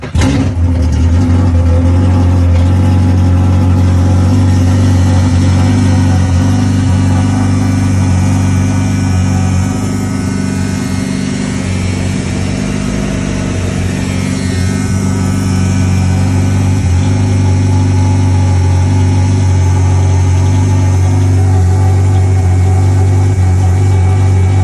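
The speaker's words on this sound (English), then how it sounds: "So now I'm going to start my engine and then turn my pump on." A Yamaha GP1800R SVHO jet ski engine starts and runs steadily with a deep, throbbing low rumble, loud and close, holding an even idle throughout.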